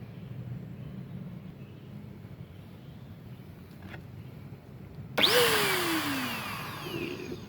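A 350-watt electric compressorless paint sprayer switches on after a quiet stretch, its motor whining up to a loud, steady high-pitched whir close by.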